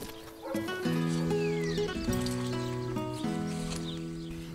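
Marismeño horses in a marshland whinny loudly and repeatedly at close range, with overlapping harmonic neighs and faint hoof movement in the background.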